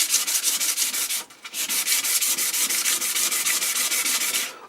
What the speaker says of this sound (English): it's got a bunch of old used sandpaper here